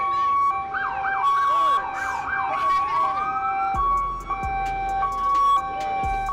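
A police car siren on a St. Louis street wails in rising and falling sweeps, then switches to steady held tones, loud and close, with low thumps underneath.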